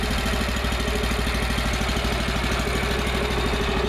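A Norwood LM29 sawmill's small engine runs steadily just after starting, a close, loud, even idle with a fast rumbling pulse and no voices.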